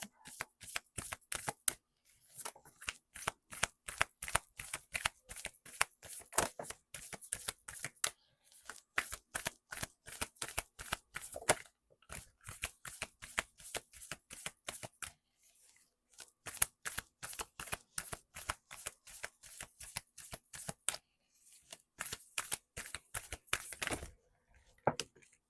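Tarot cards shuffled over and over in quick riffling bursts, close and crisp, with short pauses between rounds and no talking.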